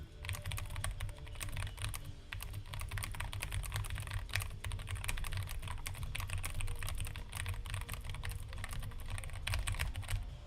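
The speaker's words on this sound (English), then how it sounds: "Idrik, can I hear the keyboard sounds?" Someone types continuously on a computer keyboard, producing rapid, uneven clusters of close, crisp key clicks that run without a break and with no talking.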